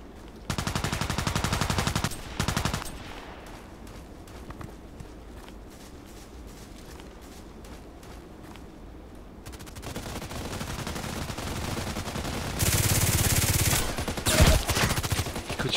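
Gunfire in Escape from Tarkov on the Interchange map: loud bursts of rapid automatic shots open the clip, then a quieter stretch of scattered activity before another heavy volley near the end.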